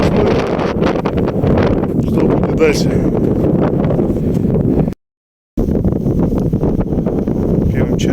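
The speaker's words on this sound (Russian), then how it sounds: "Ветер." Strong wind roars into the microphone during winter ice fishing on a lake, a steady loud buffeting rush broken by a brief dropout. A voice speaks over it.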